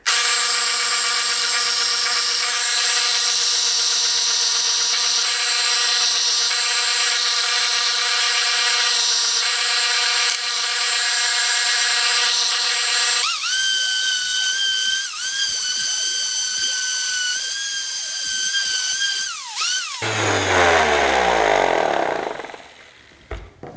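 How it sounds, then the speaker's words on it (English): Belt sander grinding a piece of PVC pipe into shape, a loud sustained whine with shifting pitch as the pipe is pressed and moved, then the motor spinning down at the end. "I'm going to go over to my belt sander, and I'm just going to sand it till I have the shape that I'm after"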